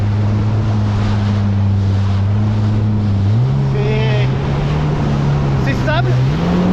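A 300 hp Stage 1+ Kawasaki-style FX SVHO jet ski drones steadily across the water, a loud, close, continuous engine tone that steps up in pitch, with wind and spray noise and brief talk over it.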